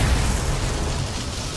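A bomb goes off in the stealth game Dishonored, a dense, loud roar of blast noise holding steady and rumbling low throughout, with no voices over it.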